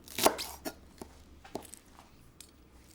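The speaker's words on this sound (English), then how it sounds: "now all I want to do is have a few snipped spring onions on top" Spring onions being snipped with scissors, giving a few crisp, quiet cuts spaced apart: one sharper snip, then lighter ones, close and isolated.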